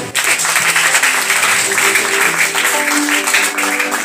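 A church congregation claps energetically together during a live deliverance service, producing dense, continuous loud applause with some voices mixed in.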